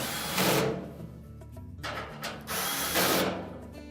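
A power drill drives screws into a Whirlpool dryer during repair, with several close, loud whirring bursts separated by short pauses and a ratcheting clatter between them.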